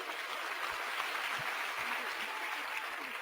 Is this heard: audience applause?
yes